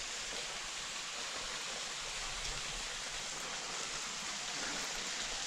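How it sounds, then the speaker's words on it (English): A small waterfall in a sheltered Australian bush spot gives a steady, soft broadband rush of falling water, constant and unbroken throughout, with no voices. "Well, isn't this nice? A nice little waterfall."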